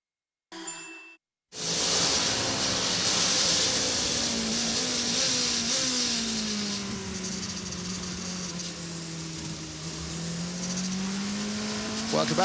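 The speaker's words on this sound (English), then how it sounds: "Welcome back to Le Mans as we ride in the number 6 Porsche Penske Motorsport 963 of Matt Campbell" Onboard the number 6 Porsche Penske Motorsport 963 prototype at Le Mans, a brief burst cuts out, then the engine roars loudly and steadily, pitch rising and easing through gears as a commentator talks over it.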